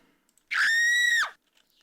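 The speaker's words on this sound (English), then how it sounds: "I'm not a fan of the scream. I'm not a fan of that noise." A single shrill, drawn-out scream sound effect from the Home Store Simulator video game, loud and close, lasting under a second and heard alone.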